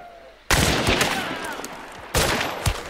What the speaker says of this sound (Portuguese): acertei um tiro, mas o gajo não morreu